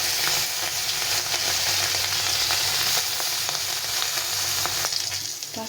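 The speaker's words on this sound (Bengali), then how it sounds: "এখন মাছটাকে ভেজে নেব।" Small mola fish fry in hot oil in a wok, giving a dense, even sizzle and crackle that holds steady throughout with faint stirring scrapes. No one speaks.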